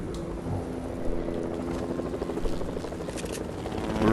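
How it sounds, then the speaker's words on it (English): Helicopter rotor and engine noise, a steady rumbling whir with rapid blade thumps, fairly loud and continuous, with no talk over it. "A helicopter?"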